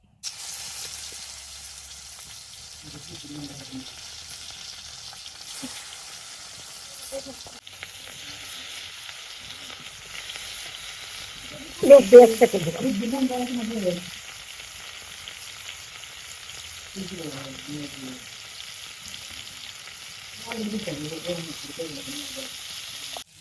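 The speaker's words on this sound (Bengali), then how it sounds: "এই দেখো মাছ ভাজা হচ্ছে" Fish seasoned with salt, turmeric and chili powder frying in hot oil in a village kitchen, a steady high sizzle throughout with brief louder bursts of stirring or turning, no talk.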